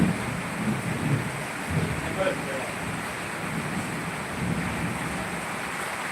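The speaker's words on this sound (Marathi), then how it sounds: "बाहेर खूप पाऊस पडत आहे" Steady, heavy rain hisses throughout, with occasional low rumbles underneath.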